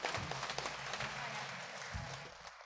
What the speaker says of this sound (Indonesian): Tepuk tangan buat Ekayana boleh.